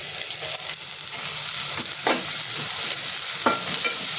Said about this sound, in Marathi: आता ह्याच्यामध्ये शिमला आणि गाजर हे टाकून परतून घ्यायचे